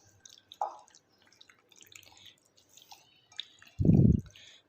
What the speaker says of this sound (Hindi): हम इसको मैरिनेट करके मिक्स करके अच्छे से इसको मिक्स करना है